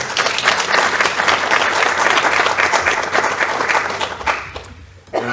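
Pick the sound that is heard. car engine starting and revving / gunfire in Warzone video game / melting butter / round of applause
round of applause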